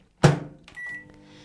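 A kitchen microwave oven for melting chocolate drops gives a sharp clack as the door shuts, a short beep, then the low steady hum of it starting to run, close and clear without speech.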